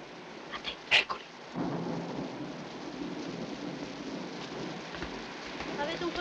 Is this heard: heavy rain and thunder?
yes